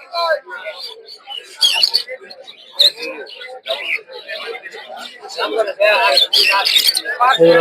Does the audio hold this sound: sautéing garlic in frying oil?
no